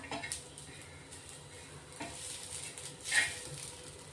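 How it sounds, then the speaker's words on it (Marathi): Small pieces of dry coconut are dry-roasted in a pan, heard as a few faint, scattered scrapes and stirs against a quiet background. "सुकं खोबरं घेतलेलं आहे आपण, तेही चांगलं भाजून घेणार आहेत आता"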